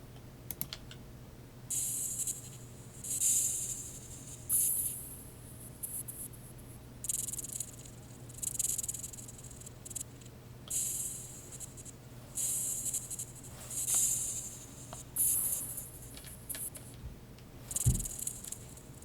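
Bursts of bright, airy hi-hat hits in FL Studio wash out into long reverberant tails, repeating in an uneven rhythm over a low steady hum; a short thump near the end.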